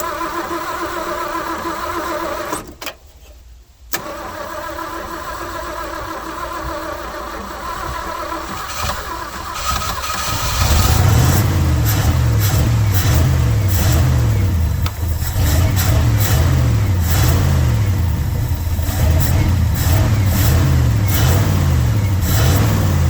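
A 1971 Ford F100 with an FE 360 engine, abandoned for 39 years, turns over with a steady cranking, goes quiet briefly, then catches and settles into a loud, lumpy, close idle.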